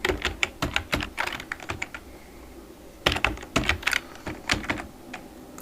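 Names being typed on a computer keyboard: two bursts of quick, close key clicks in an uneven rhythm, separated by a short pause, in a quiet room.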